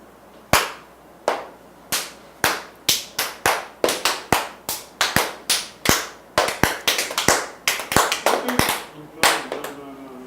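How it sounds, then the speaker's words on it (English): Hand claps in a counting game where participants clap silently instead of saying numbers aloud: a series of about two dozen sharp, close claps, irregularly spaced and speeding up toward the end, with no talking. "how many claps did you have?"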